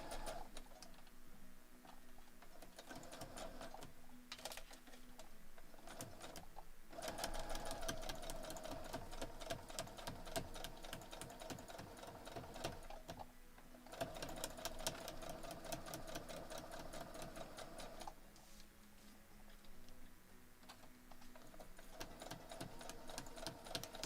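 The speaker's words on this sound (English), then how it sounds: "So sewing it the same way as we did the last two" Sewing machine stitching a foundation paper pieced star quilt block, a steady fast mechanical whir with rhythmic needle clatter running throughout, briefly pausing and restarting, close and fairly quiet.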